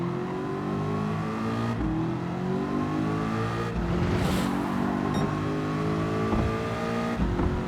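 A Ford Focus with a V8 engine swap races on Tokyo Expressway in Gran Turismo 7 on PS5. The loud engine revs climb and drop sharply at each of several gear shifts, alone without talk.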